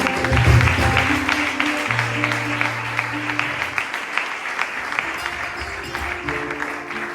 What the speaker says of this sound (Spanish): Podemos dar un aplauso a Dios en esto.